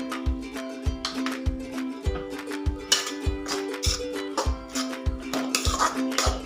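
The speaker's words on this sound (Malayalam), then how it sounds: "നല്ലപോലെ ഒന്ന് ഇളക്കി കൊടുക്കാം" A spoon stirring a tomato sauce mixture in a pan for Chinese mixed noodles, giving repeated close metallic scrapes and taps against the pan in an uneven rhythm, with no talk.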